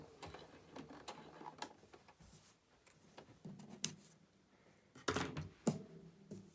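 A sewing machine stitching down a quilt seam in short bursts of rapid mechanical clatter separated by pauses and soft thunks of handling fabric, fairly close and quiet overall.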